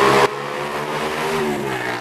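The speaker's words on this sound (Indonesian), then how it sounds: "Ini keluhannya itu RPM-nya naik turun. Jadi RPM-nya itu nggak stabil" A Honda Beat FI scooter engine with an unstable idle runs close and loud, its revs surging and sagging. After a brief louder burst, a buzzing drone wavers up and down in pitch over about two seconds.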